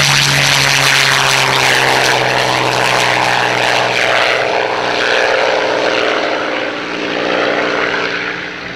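A Rolls-Royce Merlin piston aircraft engine at the Old Buckenham Airshow gives a loud, close, continuous propeller growl that swells and eases slightly but never drops out.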